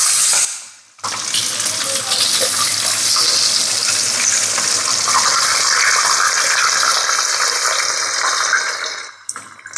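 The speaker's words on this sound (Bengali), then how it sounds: "তেল গরম হয়ে গেলে এখন মাছটা দিয়ে দিব" Hilsa fish frying in hot mustard oil in a pan gives off a loud, steady, close hiss of sizzling that starts abruptly after a moment of quiet and holds for about eight seconds before cutting off.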